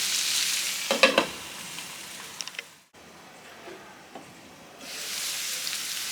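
Potatoes with fenugreek leaves, onion and green chilies frying in a pan, heard as a close sizzle with a few stirring clatters, a brief drop in the hiss midway, then the sizzle returning louder.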